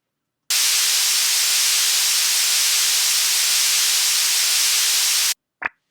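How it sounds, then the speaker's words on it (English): A burst of steady white noise from a sample in Reason hisses loudly for about five seconds, then cuts off abruptly, followed by a brief faint click. "So I take this white noise sample"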